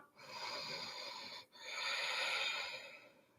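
Two slow, audible breaths during a seated yoga forward bend, each a soft airy rush close to the microphone with a brief pause between them.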